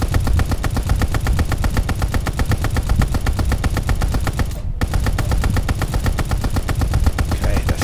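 Ball turret machine gun firing in Call of Duty, a loud continuous rapid burst of evenly spaced shots that cuts out briefly near the middle and then resumes at the same steady rate.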